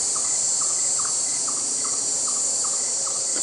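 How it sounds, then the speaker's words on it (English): Cicadas drone in a continuous high-pitched buzz at the beginning of fall, with a faint regular chirping pulsing underneath throughout. "what's kind of bizarre for the beginning of fall is so with cicadas"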